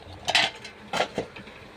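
A metal lid set over a pan of rohu fish belly curry cooked with dried lentil dumplings, giving two or three quick close clanks and rattles of metal on metal, then quiet.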